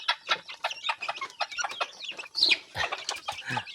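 A flock of ready-to-lay hens clucks busily in a farm pen, with dense overlapping clucks and squawks close by in a quick, continuous chatter.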